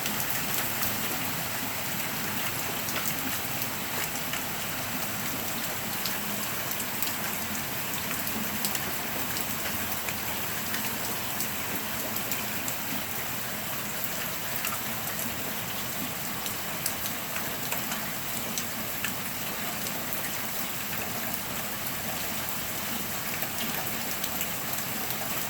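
Heavy rain pours steadily over New York in October ahead of snow, a dense continuous hiss of drops on surfaces lasting the whole stretch, loud and unbroken, with no voices.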